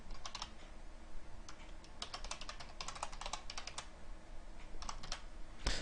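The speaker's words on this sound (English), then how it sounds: "Let me just type this out." Rapid typing of code on a computer keyboard, clicking key presses in quick bursts with short pauses, close and fairly quiet with no talking.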